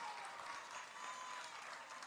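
A softball crowd claps continuously at a state championship game, a dense, even wash of applause heard from a distance at low level.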